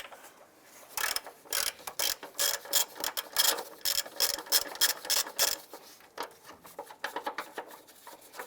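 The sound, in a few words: ratchet wrench with 17mm socket loosening big bolt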